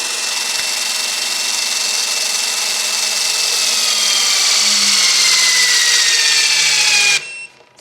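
A cordless power tool whines steadily and loudly for about seven seconds while tightening a car wheel nut, then cuts off abruptly. The pitch drifts slightly as it runs, with no impact hammering evident.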